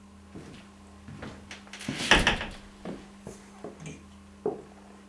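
A door leading to the upper stalls of an old theatre opens with a creaking scrape and knock, followed by scattered soft clicks and thuds in a quiet, low-humming room.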